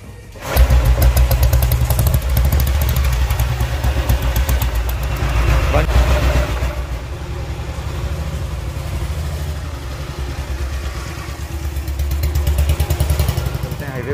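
A restored 1942 Matchless G3LS motorcycle engine thumps steadily at idle, a loud, close, throbbing rumble that barely changes, with a voice talking over it.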